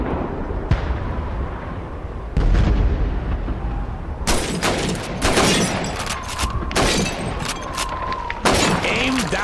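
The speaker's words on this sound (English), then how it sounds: "Shoot those bottles and plates." Rifle shots at a Call of Duty 2 shooting range strike bottles and plates, sharp loud cracks spaced irregularly with shattering breaks, a game voice speaking between them.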